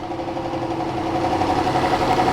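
A 2023 BMW M550i sits idling after a remote start, its engine a steady, moderately loud mid-range hum with a faint vibration, no voices over it.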